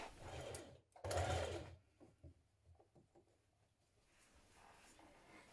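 A sewing machine stitches gathered fabric onto a dress sleeve in a couple of short runs, loudest near the start, then fades to soft handling noises of the cloth and machine.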